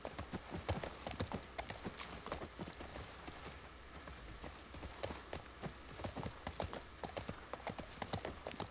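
Horse hooves clip-clopping steadily during a ride in the video game The Last of Us Part I, a continuous close rhythmic beat with a faint neigh and soft talk underneath.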